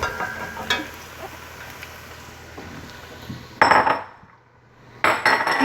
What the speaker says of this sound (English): I'm going to add in the cauliflower now.